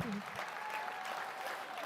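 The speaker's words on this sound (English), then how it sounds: "you're not cheering for me." A crowd at a provincial NDP leadership event cheers and applauds in a steady, dense wash of clapping, with a voice audible over the noise near the start.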